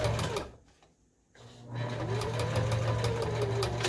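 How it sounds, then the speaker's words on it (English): Sewing machine stitching a quarter-inch seam, a fast steady whirring hum that stops briefly and then starts again, close and clear, with no talking. "bring it in to where I'm sewing just about a 1/4 inch seam"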